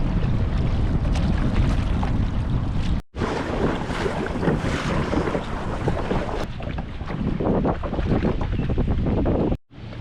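Kayaks paddle along the Huron River under heavy gusting wind buffeting the microphone, water splashing and rushing beneath a loud, continuous roar that cuts out briefly twice.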